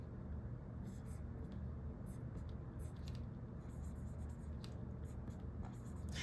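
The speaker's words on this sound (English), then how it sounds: "let me go ahead and take the time to write" Pen writing on a cash budget envelope, soft repeated scratchy strokes close up over a steady low background hum.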